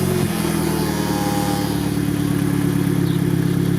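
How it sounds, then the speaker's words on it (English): The engine of an abandoned Golf GTI runs on steadily after being started, giving a continuous mid-pitched rumble with a faint clattering texture. It stays near and even throughout, with no voices. "I'm going to start the engine up,"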